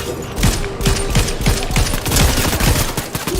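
Gunfire rattles in a Fortnite Season 2 match, loud rapid shots crowding together in a dense, continuous burst.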